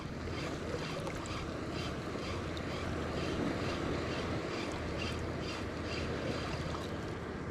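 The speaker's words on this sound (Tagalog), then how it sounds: "Hagis, medyo maalon-alon pala dito." Choppy waves slapping around a small fishing boat on open water, a steady close wash of water and wind with no talking.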